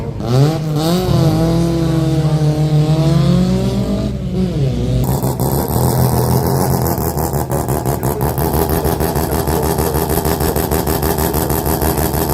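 A sprint race car at the Leyburn Sprints start line revs hard, its engine note climbing and wavering, then launches with a sudden rasping, screeching surge that stays loud and close.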